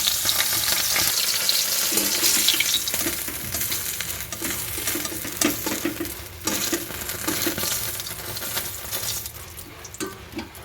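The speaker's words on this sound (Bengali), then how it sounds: "এবার আমি প্রথমে অল্প একটু তেল আছে মাছের মাথাটা ভেজে নেবো" A hilsa fish head fries in a little oil in a wok, giving a close, crackling sizzle broken by repeated scraping and stirring clatter from a utensil against the pan. No one speaks.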